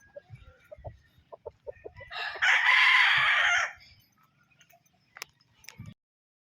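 A raptor sweater gamefowl rooster with a white streamer, black hackles and yellow legs gives one loud, close crow lasting just over a second, set between scattered soft clucks and small rustling sounds from the birds nearby.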